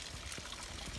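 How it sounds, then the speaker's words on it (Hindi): Natural spring water falls steadily over rocks in a continuous, close, splashing pour that fills the whole short moment. "और देखिए कितने धार में गिरा है कि पूरा पत्थर वत्थर ये टूटते हुए इसको ले आया है"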